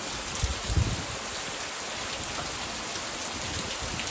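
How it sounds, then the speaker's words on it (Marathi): Strong early rain falls on a farmstead as a close, even roar, with a couple of heavier thumps near the start before the steady patter settles in. "आज सकाळ सकाळ जोरदार पावसाला सुरुवात"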